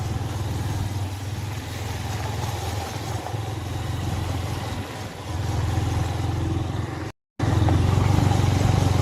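A vehicle driven along a road near a lake, its engine running steadily and close with a low hum, rising a little after a brief dropout near the end.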